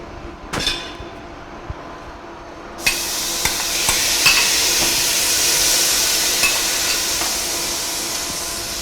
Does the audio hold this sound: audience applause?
no